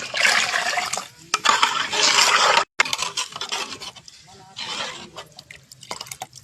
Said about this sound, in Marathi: आता बाळानं थोडं पाणी टाकून घेते.